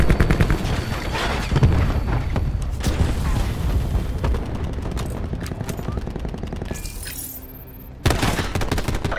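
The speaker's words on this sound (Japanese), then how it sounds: "クラスターグレネードだ。" Cluster grenade explosions and gunfire in Call of Duty: Black Ops 4 on PS4, with a dense, loud run of bursts and booms that drops away briefly before a sharp blast returns.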